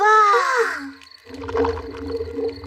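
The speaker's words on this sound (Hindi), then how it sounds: "ये डैडी के पेट की आवाज है।" A cartoon pig's stomach rumbles, a low, gurgling, groaning drone that follows a short exclaimed word and rolls on for over a second.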